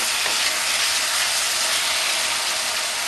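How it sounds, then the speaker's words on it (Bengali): Boneless chicken curry frying in oil, Bengali style, a dense, loud, continuous sizzle held close throughout with faint stirring beneath and no talking. "আবারও আমি মাংসটা আবার নাড়াচাড়া করবো দেখুন তেলটা ছাড়া ছাড়া হয়ে এসেছে"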